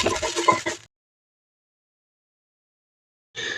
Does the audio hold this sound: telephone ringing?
no